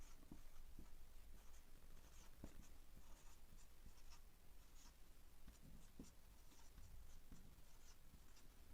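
Pen writing out a math answer by hand on paper, a soft, continuous scratching with faint taps and strokes, close and quiet throughout with no talking.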